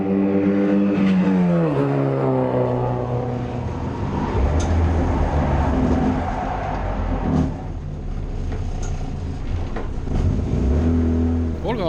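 An old Volga race car, over 30 years old, driving laps on a race track, its engine rising and falling through revs and gear changes, loud and close from onboard, with a voice talking over it.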